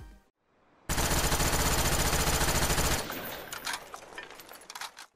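An automatic weapon in a Call of Duty game fires one sustained, loud, rapid burst of about two seconds. Rattling echoes and scattered clicks and thuds follow the burst.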